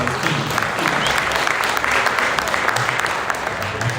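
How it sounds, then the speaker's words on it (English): Audience applause for Bhaskar at a cricket banquet: a dense, continuous wash of clapping from a large crowd, loud and unbroken throughout. "A big round of applause for Bhaskar"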